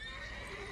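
A mare in The Witcher 3 lets out a short, thin whinny, faint and somewhat distant, layered over steady ambient game noise with no talk.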